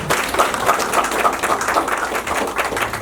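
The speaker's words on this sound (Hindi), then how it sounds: "इनके लिए जोरदार ताली" Audience at an engagement celebration applauding a speaker, dense steady clapping from many hands, close and lively, continuing for several seconds without talk.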